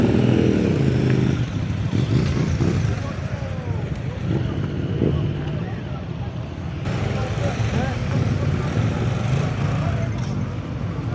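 Motorcycles arriving at a large bike rally in France, engines roaring and revving continuously close by with shifting pitch as bikes pass, over general traffic rumble, with people talking intermittently.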